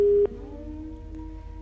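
A phone line tone after a caller's call drops on a live TV call-in show: a short loud steady beep cuts off abruptly, leaving a faint lingering hum with no voices.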